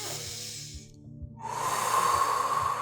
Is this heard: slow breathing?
yes